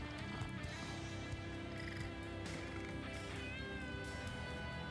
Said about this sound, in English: See, Kasia is an indoor cat, so we have to be careful about her going out.